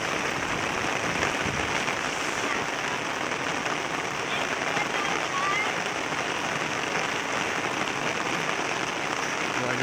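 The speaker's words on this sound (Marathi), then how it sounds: "साडेचार झाले तरी पण अजून पाऊस थांबलो नाही" Steady, heavy rain falls on a farm field in a village during a downpour, a dense, continuous hiss that holds evenly throughout.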